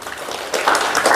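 Audience in a Telugu storytelling talk bursts into clapping partway through, a broad, dense patter of many hands rising after a quieter start and continuing steadily to the end.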